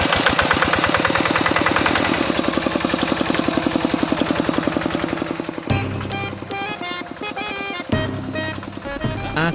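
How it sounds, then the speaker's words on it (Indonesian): A mini tractor with a cart attached at the back idles in a rapid, loud, steady chugging knock near the listener, then the engine note shifts into a rougher, uneven rattle as it works. "pakai traktor mini yang bagian belakangnya ditambah gerobak"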